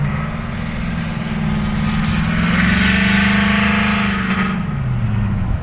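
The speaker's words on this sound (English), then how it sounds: "You can see the drone flying around." Engine drone hovers at a car cruise night near a burnout pit, a steady broadband whir with a rising harmonic tone that swells midway and then fades, carried over distant crowd and vehicle rumble.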